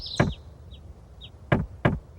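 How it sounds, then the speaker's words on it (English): In a video game, three sharp knocks sound on a door, one and then a quick pair, while short chirping bird calls come through between them. "somebody knocks and there's bird noises"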